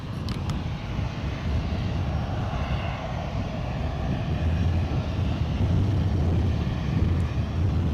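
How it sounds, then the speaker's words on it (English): A passenger jet departing Edinburgh airport for Berlin gives a steady, loud engine roar with broad rumble and wind buffeting, holding constant and swelling slightly toward the end, with no voices. "So the aircraft you are looking at, bound for Berlin."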